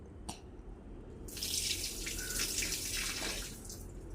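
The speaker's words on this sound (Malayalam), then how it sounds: "നമുക്കിതൊന്ന് ഒഴിച്ചു കൊടുക്കാം വെളിയിലോട്ട്" Liquid pours out in a steady splashing stream after a brief clink, rising quickly and running for a few seconds before tapering slightly, close and fairly quiet.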